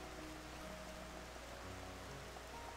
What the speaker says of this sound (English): Why does it rain so much?